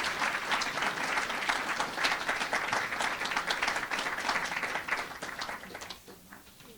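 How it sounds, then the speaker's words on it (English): Audience applause at a student awards ceremony, steady dense clapping from a sizable crowd for several seconds, then thinning and fading out toward the end. "let's give her a round of applause as she comes up"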